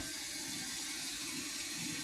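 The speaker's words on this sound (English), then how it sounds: "I switched back to cold, and the flow is definitely slow" Cold water running from a tap into a barrel, a soft steady trickling rush, faint and continuous without interruption.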